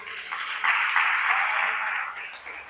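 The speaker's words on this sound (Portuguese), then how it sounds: "Você pode aplaudir a vida dele?" A church congregation at a Sunday worship service breaks into brief applause, a rising burst of clapping that holds and then tapers off over a few seconds.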